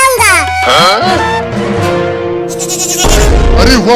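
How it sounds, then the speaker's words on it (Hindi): Baby goat bleating in a Hindi cartoon, several wavering high cries across a few seconds, loud and close, partly mixed with a cartoon voice. "अरे वाह बकरी का बच्चा"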